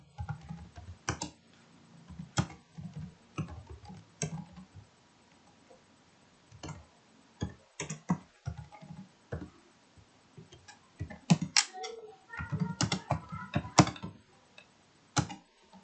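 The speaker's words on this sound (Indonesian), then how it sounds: "Oke, kemudian kita ketik scriptnya." Someone types code on a computer keyboard, with quiet clicks and short irregular bursts of keystrokes separated by pauses, growing busier toward the end, with no voices.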